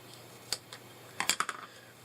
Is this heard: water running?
no